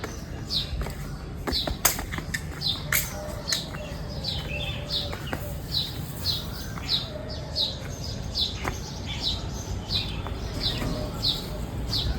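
Birds chirping in a rapid, repeated series of short high tweets with a few sharp taps, moderately close over steady background noise, as food is brought to them in the morning.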